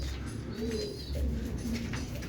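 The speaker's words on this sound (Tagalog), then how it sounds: "nasa atin pa yung mga ibon" Pigeons coo softly in low, rolling calls, a few overlapping phrases close by over faint background noise.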